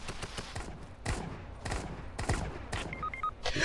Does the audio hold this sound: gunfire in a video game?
yes